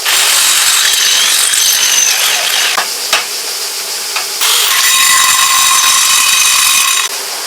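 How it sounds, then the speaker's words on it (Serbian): Power drill boring the first holes into a frame while building a large pulley rig, a loud continuous high whine that dips and restarts partway through, close up with no talk. "evo sad kad sam obeležio, bušim prve rupe"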